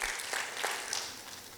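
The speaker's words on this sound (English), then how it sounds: "And yes, we can clap for that." An audience claps at a social justice institute launch event, a short dense burst of applause that tapers off over under two seconds.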